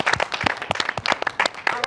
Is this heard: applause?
yes